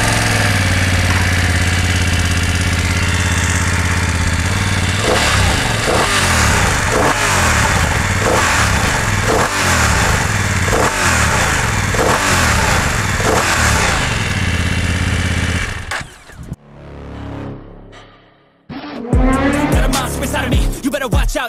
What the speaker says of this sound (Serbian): ajmo konačno u vožnju ovog motora